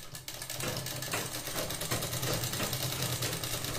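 Sewing machine running a continuous stitching pass along a blouse seam, a fast, even mechanical whirr with a rapid needle rhythm, quiet and close, with no talk.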